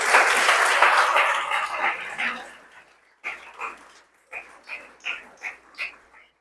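A church congregation breaks into loud, sustained applause that fades, followed by several short separate bursts of claps and cheers, with no one speaking over them.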